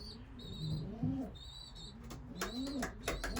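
Racing pigeons coo in a humid loft, low rolling calls repeating several times at close range, with a few high chirps and faint wing flutters mixed in.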